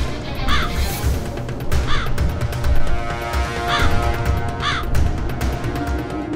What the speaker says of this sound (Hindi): काक, मेरे वाहन, शीघ्र उपस्थित हो।